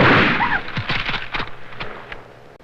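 Sharp reports from a military funeral rifle volley ring out in an irregular burst of several shots after a loud opening blast, echoing and fading in a quiet outdoor setting.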